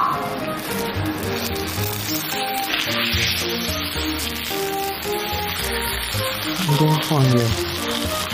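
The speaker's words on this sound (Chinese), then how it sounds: "再把这牛排拿来煎一下。" Steak pan-frying in a home kitchen, a continuous crackling sizzle under a woman's brief speech and background clatter, with kitchen music-like tones mixed in.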